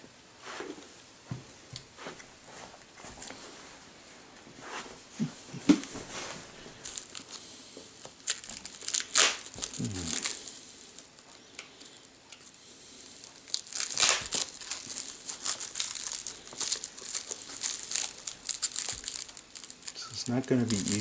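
Packaging holding a thrift store camera is cut open and torn into, with close crinkling plastic, sharp tearing bursts and rustling, faint and intermittent with scattered quieter handling between.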